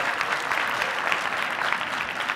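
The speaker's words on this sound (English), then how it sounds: "Big round of applause again for our panelists," Audience at a live industry conference day applauding a group of panelists; dense, steady clapping fills the whole stretch without pause.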